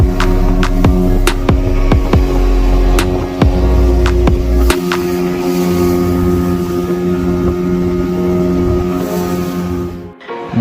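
A motorboat engine drones steadily on a sea ride off Kuakata beach, with loud wind buffeting and sharp knocks in the first half before the hum settles and fades at the end.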